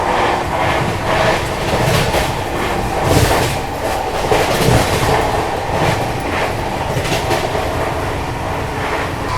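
The CR Rajdhani Express, a push-pull train, runs at a flat 130 km/h, heard from on board as a loud steady rumble with rhythmic clickety-clack of wheels over rail joints.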